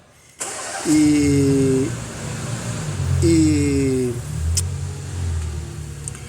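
A 2015 Chevrolet Tracker engine cranks and catches, then runs with a rough idle suggesting valve or tappet noise, with a couple of short revs, heard close and loud, with a brief voice near the start.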